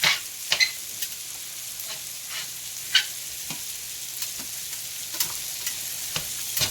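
Thin-sliced cheesesteak beef frying on a griddle over medium-high heat, a steady close sizzle broken by sharp scraping clicks and taps as the meat is ripped and shredded with a spatula, no talking.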